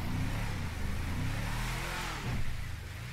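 In GTA V, a pickup truck's engine revs steadily and loudly up close, a continuous droning roar that swells briefly near the end.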